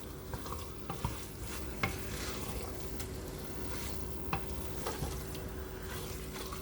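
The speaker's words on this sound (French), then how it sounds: "je vais encore prendre la peine de bien mélanger le tout" A spoon steadily stirs fish and amaranth leaves in a cooking pot, with a soft continuous sizzle and scattered scraping clicks against the pot.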